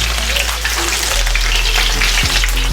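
Cumin seeds and green chillies fry in oil in a tawa kadai, giving a loud, unbroken sizzle over a low hum, close up and with no one speaking.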